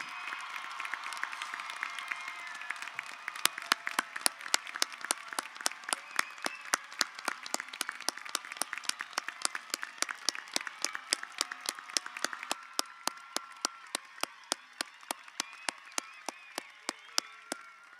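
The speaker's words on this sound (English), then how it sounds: "please give another big round of applause for the class of" Applause for the graduating class at a Winslow Township High School graduation, a broad wash of crowd clapping that thins out into scattered, rhythmic individual claps and sharp cheers toward the end.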